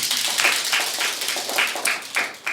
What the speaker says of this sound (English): round of applause for Jared